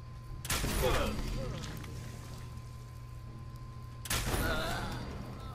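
Gunfire in the video game Fallout 4, two sharp bursts about four seconds apart over a steady low game hum, with a voice talking.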